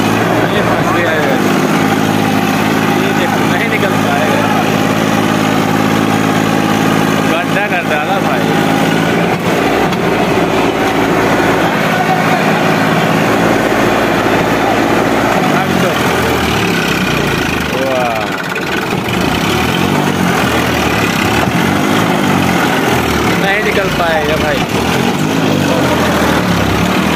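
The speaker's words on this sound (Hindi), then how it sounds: "मैक्स ट्रैक्टर है 1035 DI, देखते हैं निकल पाता है कि नहीं आज" Massey Ferguson 1035 DI tractor stuck in a pit, its diesel engine droning loudly and steadily throughout with a rough, labouring vibration, while people talk over it outdoors.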